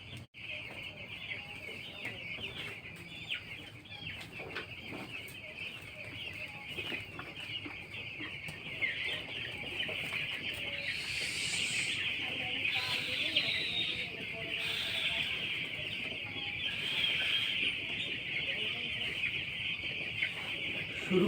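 A flock of broiler chickens at a poultry farm cluck and chirp continuously throughout, a dense, steady chorus close by with some soft background noise.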